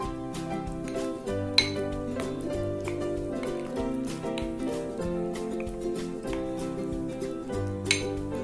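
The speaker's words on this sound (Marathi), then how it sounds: "त्यानंतर 2 कप दूध घालूया आणि हे मिश्रण छान ढवळून घेऊया।" A spoon stirs milk and mashed banana in a bowl, giving light, irregular clinks against the dish over steady background music.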